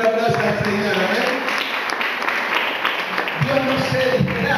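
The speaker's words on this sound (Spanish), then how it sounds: "Denle un aplauso al Señor" Church congregation clapping for the Lord during a Spanish-language sermon, a dense, steady wash of applause running throughout, with voices and music tones layered over it.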